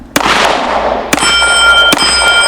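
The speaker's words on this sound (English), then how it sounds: "So you see how he shot that shotgun to get the round out?" A shotgun fired during a cowboy action shooting match outdoors, with loud sharp blasts in quick succession ringing out, followed by metallic clangs of steel targets, close and with no talk.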